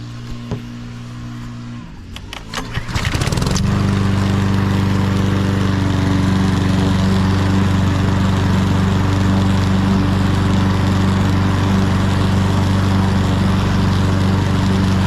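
Ride-on lawn mower in a garden starting up after a brief cranking stutter, then settling into a loud, steady engine drone with a constant hum close by.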